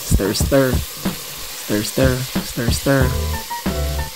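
Cured meat fries and is stirred in a pan, a steady sizzle running beneath repeated voiced sounds that come in short bursts.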